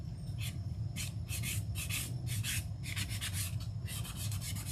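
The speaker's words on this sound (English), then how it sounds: "we'll take our sanding block and then just kind of sand some of these edges here" A sanding block rubs back and forth over the painted edges of a scrap 4x4 wood piece in quick, repeated scratchy strokes, close and steady, with no voices.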